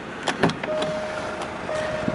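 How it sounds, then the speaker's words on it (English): A car's electric folding door mirrors whir into motion after a few brief clicks, producing a soft, steady motor hum close by with no talking. "Electric folding door mirrors."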